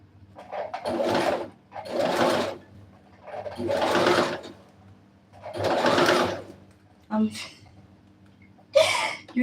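Sewing machine stitching a strapless dress in bursts of about a second each, five runs separated by short pauses, close and fairly loud, with a person speaking between and over the stitching.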